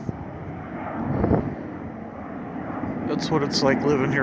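An airplane flies overhead above a residential area, making a steady, rumbling engine roar that swells slightly as someone talks over it.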